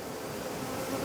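Honey bees drone loudly and steadily at an open hive, a dense close buzzing with no voices.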